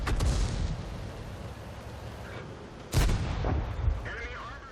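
An FV4202 medium tank's main gun fires in World of Tanks on the El Halluf map, one loud booming shot near the start and another sharp blast near three seconds, with engine rumble and faint speech underneath.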